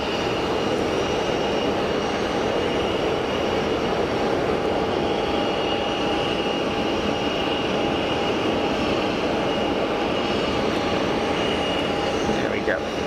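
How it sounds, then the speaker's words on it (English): A Wizz Air airliner taxiing at Geneva Airport rumbles as a loud, continuous engine roar with a steady whine, dense and unbroken for the whole stretch. "Wizz Air on the taxi in."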